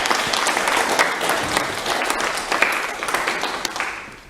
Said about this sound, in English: can we have a good round of applause for both of them?